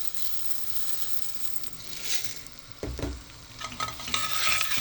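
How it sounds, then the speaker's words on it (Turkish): Bulgur is stirred into goose meat in a pot, a spoon scraping and rustling through the grains over a faint sizzle of toasting, close and fairly quiet, with irregular scrapes and taps. "Yeterli bulgurumdan şöyle bir karıştıralım."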